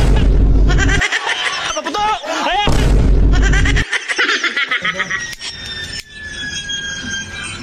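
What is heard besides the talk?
firecrackers exploding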